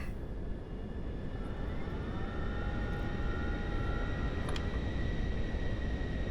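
Twin jet engines of a Pilatus PC-24 spool up in the FS2024 flight simulator, a steady broadband roar with thin rising whines, even and continuous throughout.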